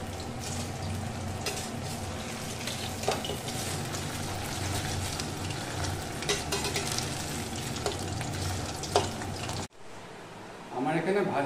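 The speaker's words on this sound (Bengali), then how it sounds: "এবার আমি একটা একটা করে মাছ এর মধ্যে ছেড়ে দেবো।" Pomfret fish frying one by one in hot oil in a wok give off a loud, continuous sizzle with occasional spatters and scrapes, then the sound cuts to a quieter stretch with a voice talking.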